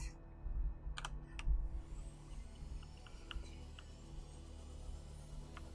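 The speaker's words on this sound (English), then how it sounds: "you're gonna hear my mechanical keyboard" Clicky mechanical keyboard keys clatter in a short quick burst near the start, then a few scattered, fainter taps follow against a quiet, humming room.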